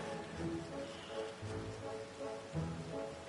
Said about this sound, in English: Ah, raining outside.